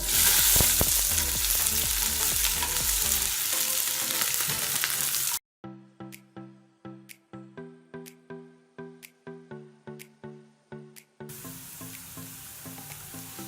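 Chopped garlic and capsicum fry in a pan, filling the kitchen with a loud, continuous sizzle. The sizzle breaks off into a quieter stretch of rhythmic tapping and stirring, then resumes, with no talking.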